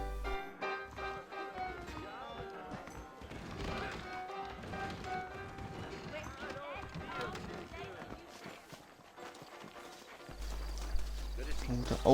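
Saddled horses in the Western video game Red Dead Redemption trot with rhythmic clip-clopping hooves under background music and a low hum, while people talk over it.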